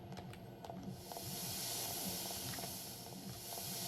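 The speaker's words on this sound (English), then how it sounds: "I turned off the steam." Steam hisses steadily in the video game Daria's Inferno, a broad, fairly quiet airy rush that swells after the first second and holds, over a faint repeating low mechanical pulse, with no talking.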